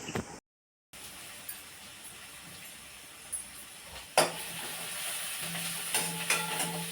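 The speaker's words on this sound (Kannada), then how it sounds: "ಬೆಳಗ್ಗೆ ತಿಂಡಿಗೆ ಸ್ವಲ್ಪ ಅನ್ನ ಇತ್ತು ಅದನ್ನೇ ಒಗ್ಗರಣೆ ಹಾಕ್ತಾ ಇದ್ದೀನಿ" Leftover rice is tempered in a frying pan at home, with a soft, quiet sizzle and light stirring after a brief silence, growing louder and more crackly in the last few seconds.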